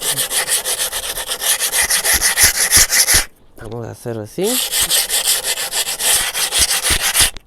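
Coarse sandpaper scrapes hard and rhythmically against a rough cement pot, loud and close, pausing briefly while a person speaks before the rasping resumes.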